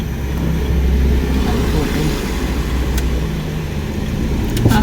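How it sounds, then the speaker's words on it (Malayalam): A vehicle passes on a road at night, its engine and tyre noise forming a loud, steady rumble that holds for several seconds and swells slightly at the end. "വണ്ടി വരുന്നുണ്ട്, അത് പോട്ടെ"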